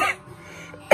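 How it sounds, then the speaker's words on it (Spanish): A person with a chronic cough gives two short, sharp coughs, one at the start and another just before the end, close and fairly loud with a quiet pause between. "Esta tos es crónica, ¿vale?"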